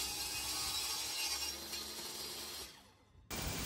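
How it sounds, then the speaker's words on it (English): A saw rips plywood sheet for concrete shuttering on a retaining wall footing. It makes a loud, steady broadband cutting roar that fades briefly near the end, then starts up again abruptly. "I'm just ripping up some plywood here to use as shuttering to hold back the concrete"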